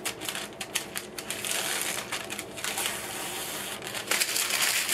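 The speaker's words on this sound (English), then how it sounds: "So you just remove the paper." Paper backing is peeled off cut pieces of Wonder Under iron-on fabric adhesive for cowboy boots, giving a continuous crackly, crinkly tearing sound that stays close and fairly loud, with sharper snaps near the end.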